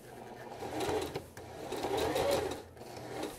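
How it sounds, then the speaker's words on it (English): Nearby, a sewing machine bastes a seam in one continuous run of a few seconds with a slight dip midway, its motor hum and needle clatter steady and close. "basically you're just going to baste this thing so you don't backstitch"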